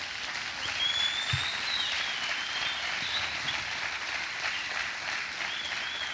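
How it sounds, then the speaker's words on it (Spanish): Congregation applauding after a line in a Spanish-language sermon on the law of sin: steady, dense clapping from a crowd throughout, fairly distant and even in level, with no talk. "Eso merece un aplauso."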